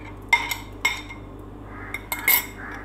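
A spoon scrapes and knocks against a clay handi as ground onion paste goes in: a few short, sharp clinks and taps with quiet pauses between them, close by and with no voices.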